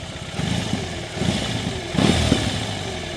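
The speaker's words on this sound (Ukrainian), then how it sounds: "послухаємо, як працює двигун" A 2022 BMW R18 motorcycle engine with 10,000 km runs close by, chugging unevenly with a few short revs rising and falling, no voices.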